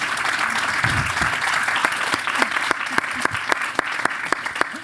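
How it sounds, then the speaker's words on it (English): An audience at a panel on communicating with Arizona voters about the 2018 gubernatorial race applauds its guest speakers, steady dense clapping with sharper individual claps standing out and a brief voice near the start. "So one more round of applause for our guests."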